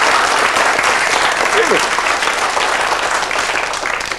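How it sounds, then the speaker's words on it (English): Studio audience applause at a 1980s BBC science quiz show, a dense steady clapping wash that fills the whole stretch and tapers slightly near the end, with a brief voice cutting through. "Give him a round of applause."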